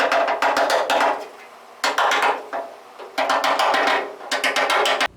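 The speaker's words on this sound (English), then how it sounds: "I'm going to use a little mallet to pound them home" A small mallet pounds parts into place during a restoration, giving bright hard knocks in three quick bursts of rapid strikes separated by brief pauses, close and loud with no talking.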